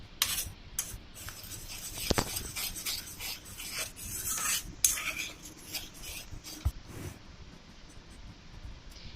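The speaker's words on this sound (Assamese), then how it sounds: "অলপ সময় এনেদৰেই মই লৰাই লৰাই উতলাই লৈছোঁ।" Milk mixture stirred in a pan as it boils for pera made with Marigold biscuits, giving a steady scraping, rasping rub with a few sharper knocks of the spoon, fairly close and alone.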